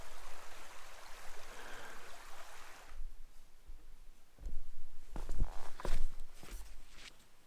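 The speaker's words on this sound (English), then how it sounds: "I crossed the River Trice here." Water of the River Trice flows steadily in the Porcupine Mountains wilderness, a broad rushing wash that gives way to close crunching footsteps and scuffs on the bank, a few louder steps standing out near the end.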